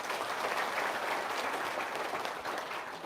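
Dense, continuous audience applause in a crowded room, steady and fairly loud for three seconds with no voices over it.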